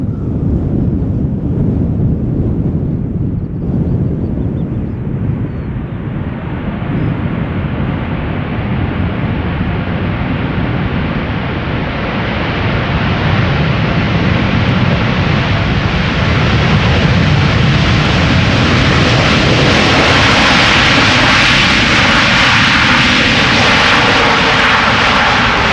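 AeroMexico jet airliner arriving at Schiphol Airport after a flight from Mexico City, its engines roaring loud and steady, building toward a broad rising whine near the end, with some wind buffeting the microphone.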